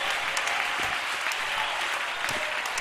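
A church congregation at a tabernacle service claps in steady, dense applause that fills the whole stretch, loud and continuous with no clear talk above it.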